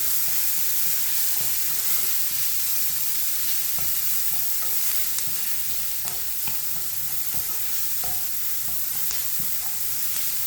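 A fish cutlet mixture sautés in a pan, sizzling steadily and close while a spoon stirs it, with frequent small scraping taps against the metal.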